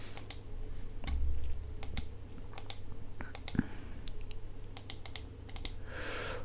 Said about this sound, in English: When I first turn this knob, it just registers it as a click.